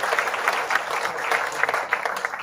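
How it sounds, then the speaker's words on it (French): Short burst of audience applause at a mayor's New Year wishes ceremony, a dense, even patter of many hands clapping at a steady level throughout. "on peut l'applaudir aussi"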